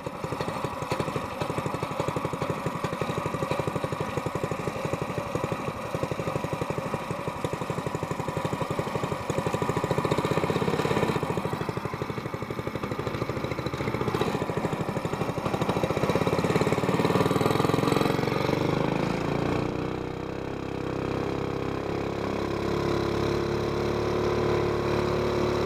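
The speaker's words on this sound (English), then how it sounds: "Do that with an outboard." Outboard motor running steadily on a fishing boat while drift fishing near rocks, a continuous close mid-pitched engine drone with a faint knocking rhythm, shifting tone partway through.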